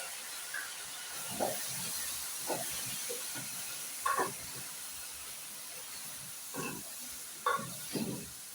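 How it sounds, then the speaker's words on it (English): Meat frying with onion in a pan for mukimo, a soft, low sizzle broken by occasional short scraping bursts as the pan is stirred. "the meat is cooking with the onion"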